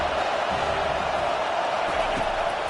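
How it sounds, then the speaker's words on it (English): Steady, loud stadium crowd roar fills a college football video game, USC Trojans against San Diego State, holding at a constant swell throughout with no clear break. "Big 3rd down as the crowd gets behind this defense."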